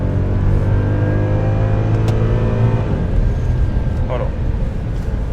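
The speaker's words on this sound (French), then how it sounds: "Mode manuel, en sport, rétrogradage. Là, ça watt." A Mercedes ML63 AMG 4x4 in manual sport mode, its engine roaring loudly and steadily from inside the cabin as it downshifts, with someone talking over the drone.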